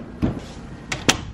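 A door in a house being shut gives a dull thump followed by a second sharper knock about a second later, close by, over a steady room hum.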